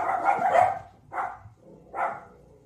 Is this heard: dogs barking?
yes